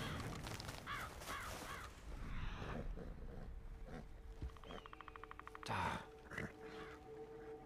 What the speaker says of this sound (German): die Vögel haben wir schon mal erfolgreich aufgescheucht